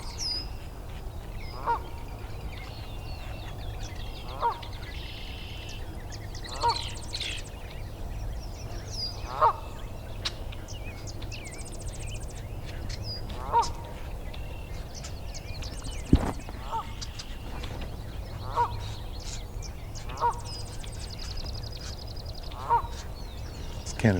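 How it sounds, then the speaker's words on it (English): A Canada goose in a marsh honks repeatedly, about ten evenly spaced, moderately distant calls over a quiet outdoor background, with one sharper knock partway through. "This Canada goose is still going on."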